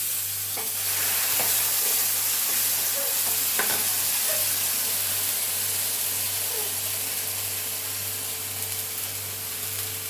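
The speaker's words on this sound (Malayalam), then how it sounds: "ഇനി നമ്മൾ അരച്ച് വെച്ച അരപ്പ് വയറ്റട്ടെ ആ എണ്ണയിലോട്ട്" Ground coconut paste hits hot oil already holding fried chilli powder for a moru curry with ash gourd, giving a steady, loud sizzle that runs throughout, with a few light clicks of stirring.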